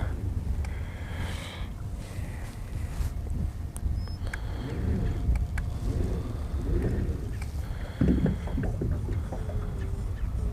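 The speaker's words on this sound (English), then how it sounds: "it really wouldn't be so bad out here if that wind wasn't blowing" Wind blowing across open water during a December fishing trip, a steady rushing roar with gusty buffeting against the microphone and occasional small knocks, continuous and close.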